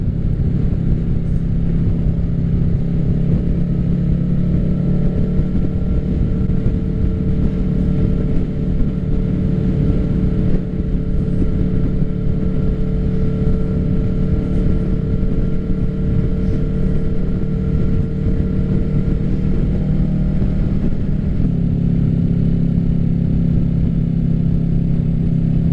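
A 2024 Kawasaki Ninja 650 with an M4 exhaust drones steadily while riding, a loud, close, continuous engine note holding a near-constant pitch with a slight shift near the end, no voices over it.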